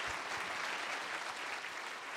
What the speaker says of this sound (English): give a round of applause to Governor Pan.